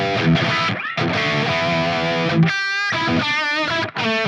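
An electric guitar played through an Axe-Fx with drive and no reverb rings out in dry, distorted chords and sustained notes, with sharp stops and short gaps between phrases.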